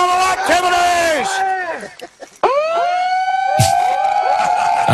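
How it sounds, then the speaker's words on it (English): Several sirens wail together, sweeping and overlapping in loud rising and falling tones. A short dip partway through is followed by a fresh, strong siren sweep. "I love the multi-sirens."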